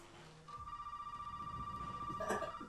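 A telephone rings in the Resident Evil 7 video game, giving one steady electronic ring tone that pulses rapidly and holds for a couple of seconds. It sounds close and moderately loud over a low background hum.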